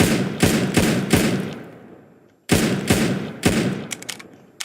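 Gunfire from a weapon in the Roblox video game comes in rapid, punchy shots, four in one burst and then a second burst of three to four more, each followed by a short echoing tail.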